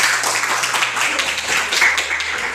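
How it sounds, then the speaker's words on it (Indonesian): Applause for a group of students about to present in a classroom, a dense patter of many hands clapping steadily for about two and a half seconds before stopping abruptly. "tepuk tangan untuk kelompok 3"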